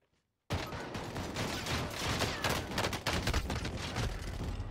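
Rapid automatic gunfire from a video game gun, a dense continuous fusillade that starts abruptly after a short silence and stays loud and close throughout.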